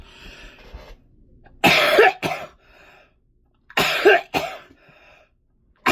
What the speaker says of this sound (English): you guys who are here often know that I have a recurring cough throughout my lifetime